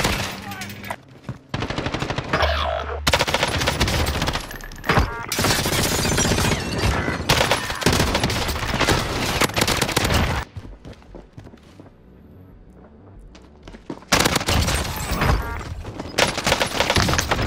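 Bursts of rapid automatic gunfire and shots in a first-person shooter video game, a sniper among the attackers; loud, dense volleys broken by a short quieter stretch, with the player's voice mixed in.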